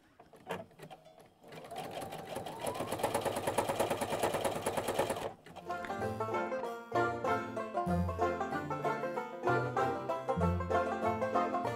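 A sewing machine stitches fabric jelly roll strips together, running in steady fast bursts with a short pause partway and a rhythmic mechanical whir, close and clear.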